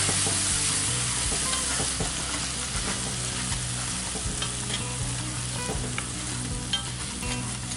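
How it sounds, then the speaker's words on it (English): A pan of dredged shrimp being deglazed with whole milk, giving a loud, constant sizzle close up with occasional stirring scrapes throughout. "we're going to go ahead and just deglaze the pan with just a little bit of, we're using whole milk"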